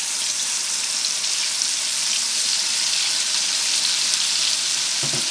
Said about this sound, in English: So when you put the plantains in the oil, you have to wait till it sets a little bit.